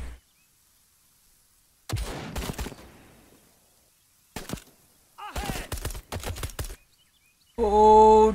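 Gunfire in the Call To Arms video game comes as sharp separate bursts with quiet gaps between them, a few close cracks and a quick cluster of shots, followed by a loud tonal game sound at the end.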